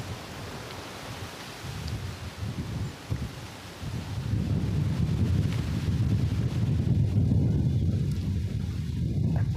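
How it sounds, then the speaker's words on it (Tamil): Gusting wind rushes through tree leaves on a hillside in elephant forest country, a rustling roar that swells louder midway and keeps blowing steadily, with low rumbling buffeting on the microphone. "இந்த காற்றுல மரத்தோட சவுண்டு தாங்க,"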